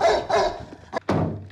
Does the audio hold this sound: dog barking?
yes